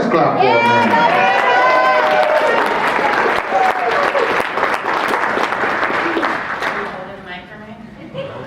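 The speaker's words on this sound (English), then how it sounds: "come on, let's clap for Amanda" A health department recovery event audience claps loudly for a speaker, dense applause with some cheering and voices that carries on for several seconds before thinning out.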